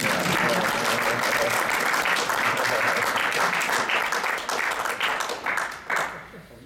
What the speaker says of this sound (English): We gotta clap again.